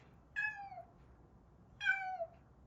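Two separate meows from a stray cat, each a drawn-out, falling cry, close and clear against a quiet background.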